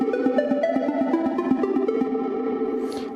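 Synth line of rapidly alternating notes driven by the Prism MIDI sequencer, a steady, even pulse of short plucked tones repeating evenly for about three seconds, clear and alone.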